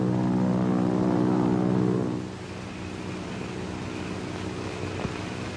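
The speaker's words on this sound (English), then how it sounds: "Do you hear a plane?" A loud, steady engine drone hums for about two seconds, then drops to a quieter, continuous rumble that carries on to the end.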